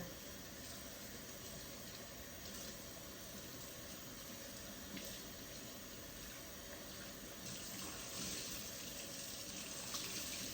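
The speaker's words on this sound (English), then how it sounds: "I take this and I just run it under water." A damp towel is held under a running kitchen tap while baking bread, giving a steady close hiss of flowing water that swells louder near the end.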